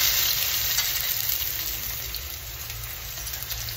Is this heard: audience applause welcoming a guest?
no